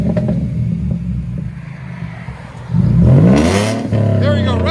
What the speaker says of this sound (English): There you go, rev it.